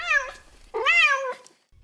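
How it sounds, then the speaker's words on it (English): Two drawn-out, pleading meows from a hungry house cat at feeding time, loud and close, the second longer and rising, each standing alone with no talk. "When I feed my cats, I can't even get the can all the way open before I'm besieged by the sound of desperate cries."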